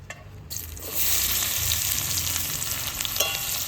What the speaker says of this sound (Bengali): জিরে তেজপাতা আর শুকনো লঙ্কা তেলে দিয়ে দিল পেঁয়াজটা দিয়ে দেবো